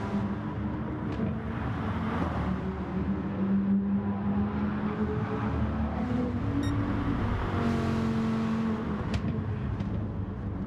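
Touring car engines racing in a video game, a steady close engine drone that rises and falls with gear changes and passing cars throughout.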